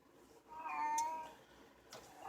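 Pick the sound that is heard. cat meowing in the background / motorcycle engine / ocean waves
cat meowing in the background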